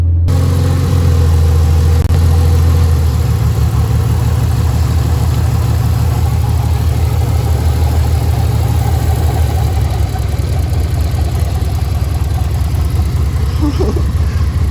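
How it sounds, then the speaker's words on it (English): Ford Falcon AU engine idling roughly on three cylinders, a loud, continuous uneven low rumble with a pulsing beat throughout and a faint voice briefly near the end. "It runs on 3 cylinders."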